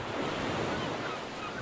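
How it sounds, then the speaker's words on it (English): Ocean waves and wind from the visual novel Ever17, a steady broadband wash of surf with gusting wind, continuous and fairly close with no voices. "The wind, full of the smell of the ocean, blew by him gently."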